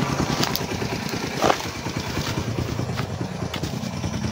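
A motorcycle engine idles steadily nearby with a low, even putter under a faint wash of outdoor background noise.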